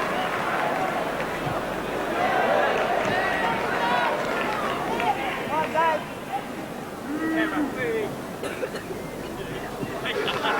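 Large crowd at a football stadium during a testimonial match, England XI against an Italia '90 XI, a broad continuous roar and murmur that stays fairly steady throughout, with a commentator's voice talking over it.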